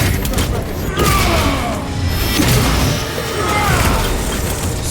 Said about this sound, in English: Crack grenade hot!